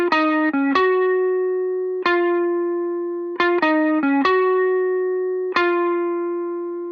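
Clean-boosted electric guitar picks a sparse melodic riff of single notes, each sharp attack ringing out through reverb and delay, with a few quick note clusters between longer sustained tones.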